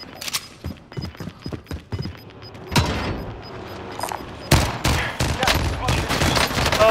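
Rapid bursts of gunfire in a shooter video game, sharp repeated shots in irregular clusters across the clip, with a few louder close blasts near the end.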